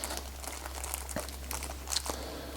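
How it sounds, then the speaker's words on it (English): Plastic packaging from a late-1990s GM ignition lock cylinder replacement kit crinkles softly as springs and lock tabs are pulled out, with scattered faint rustles and a few light crackles close by over a steady low hum. "So we're going to remove these from the packaging."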